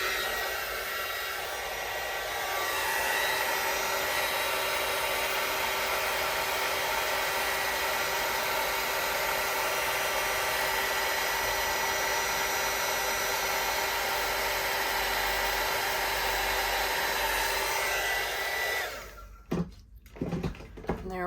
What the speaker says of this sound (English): I've got to get my little heat tool here.